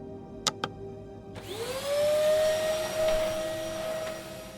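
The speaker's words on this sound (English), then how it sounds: "How far down does that tube go? The vacuum tube delivery system was state-of-the-art when it was first installed in the Institute." A pneumatic vacuum tube delivery system in an institute sends a capsule: two sharp clicks from a button or latch, then a rising whoosh that settles into a steady suction hiss and hum for several seconds, close by with no talking.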